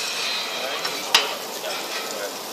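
Onion sizzling in a hot pan while being sautéed for a curry, a steady bright hiss with one brief clink partway through.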